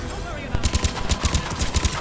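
Rapid weapon fire shredding enemy turrets in Mass Effect 3, a quick run of punchy close shots in an uneven rhythm over faint combat ambience.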